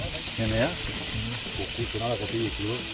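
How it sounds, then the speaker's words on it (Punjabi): Barbecue sizzling with green and red chillies added, cooking outdoors on a lakeside outing; steady frying hiss runs throughout beneath a voice talking over it. "ਹੁਣ ਸਾਡਾ ਬਾਰਬੀਕਿਊ ਬਣ ਕੇ ਤਿਆਰ ਹੋਣ ਲੱਗ ਗਿਆ ਇਹਦੇ ਪਰ ਹਰੀਆਂ ਮਿਰਚਾਂ ਲਾਲ ਮਿਰਚਾਂ ਪਾ ਦਿੱਤੀਆਂ"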